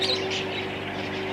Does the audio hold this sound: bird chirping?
yes